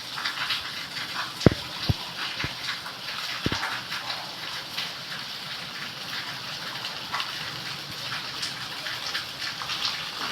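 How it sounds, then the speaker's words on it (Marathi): Rainwater rushes past a gate after an hour of heavy monsoon rain in the Ahmednagar MIDC area, a steady broadband gush with a few sharp knocks early on, no voices. "इथे खाली चांगलं आमचं गेट जवळ चांगलंच पाणी चाललं"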